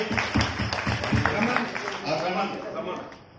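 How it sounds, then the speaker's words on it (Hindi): Audience clapping rings out at a film launch ceremony in honour of the actors, a brisk burst of applause mixed with a voice on microphone. "जरा जोरदार तालियां बजाएं इसके लिए।"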